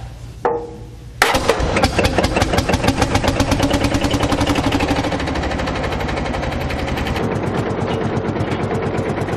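An old tractor engine cranks, catches with a bang, then settles into a loud, rapid, steady chugging putter that continues to the end.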